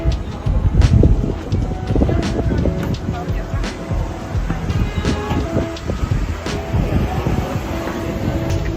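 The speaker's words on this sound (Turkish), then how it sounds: "Bugün o kadar rüzgarlı ki size anlatamam." Strong wind buffets the microphone with rumbling gusts throughout, mixed with a roaring noise like passing traffic or a train. A person talks over it.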